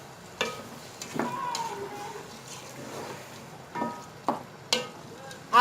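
Chickpea mixture with fried brown onions, coriander and mint being stirred for chana biryani, several soft scraping and clacking spoon strokes in a quiet kitchen.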